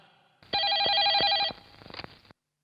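A telephone rings with a loud, buzzing electronic trill for about a second, followed by a shorter fainter burst of ringing, close and clear with nothing else around it.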